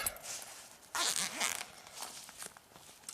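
Zip on a compact pocket WiFi rental wallet, pulled open with a quick close rasp and a short burst of zipper noise, no talking over it.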